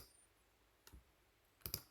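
Two quick pairs of faint, close computer mouse clicks, one near the middle and one toward the end, against near silence.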